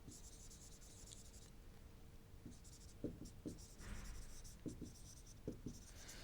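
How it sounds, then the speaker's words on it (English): Chalk or marker is rubbed off a classroom board in soft, scratchy swipes and light taps, quiet and close, with short pauses between strokes. "Let me erase"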